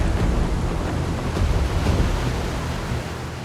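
Broadband ocean surf rushing steadily as a pirate ship sets sail, loud and wind-blown, easing slightly at the end.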